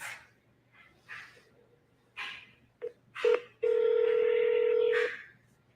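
Phone keypad dialing tones from someone placing a call: a few short, scattered electronic beeps, then a steady tone held for over a second, fairly close and with no voices.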